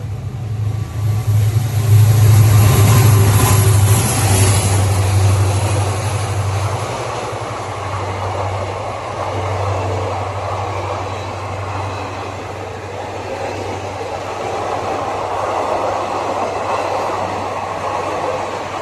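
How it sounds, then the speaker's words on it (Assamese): A train rolls past a road crossing, giving a steady, loud rumble with low droning tones, strongest early on and then settling into a continuous passing roar without talk. "গাইছ ট্ৰেইন আহি গৈছে এইফালে"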